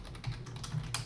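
Computer keyboard keys clack in quick, uneven bursts as code is typed, close up and steady with no talking.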